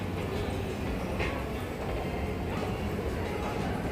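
A train in Busan rumbles along with a continuous low roar and faint rail noise. The sound is steady and moderately close, with no clear speech.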